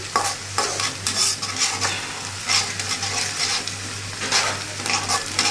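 Radish greens stir-fry in a pan, a steady crackling sizzle broken by repeated scraping stirs, close and continuous under a low hum, with no talking.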